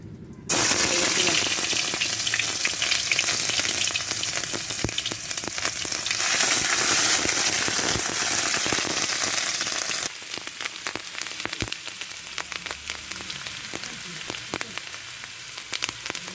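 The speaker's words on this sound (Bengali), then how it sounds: "তেল গরম হয়ে গেছে এবার আমি পেঁয়াজ বাটা দেবো" Onion paste hitting hot oil in a wok for a fish curry, giving a loud, steady sizzle that fills the whole stretch and eases slightly partway through as it is stirred.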